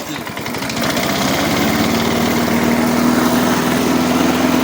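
A restored lawn mower engine fires up and settles into a steady, loud running drone with a constant pitch, holding close and continuous after a brief rough start.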